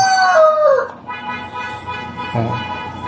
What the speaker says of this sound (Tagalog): So itong pair ng ating black na hen. Yan. Bantam pa din.